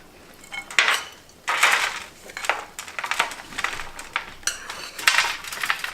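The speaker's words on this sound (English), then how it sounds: "I now take my 2 pans, put them side by side," Metal baking pans clatter and scrape as they are set down side by side, a series of bright clanks and rattles at close range.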